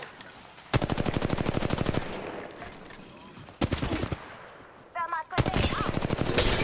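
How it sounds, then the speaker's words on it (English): Automatic weapon fire in the mobile battle-royale game Apex Legends Mobile, with loud sustained bursts of rapid shots separated by short pauses and a brief electronic chirp before the final burst. "They're shooting at me."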